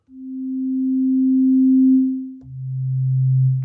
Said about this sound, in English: this is just a sine wave, nothing much happening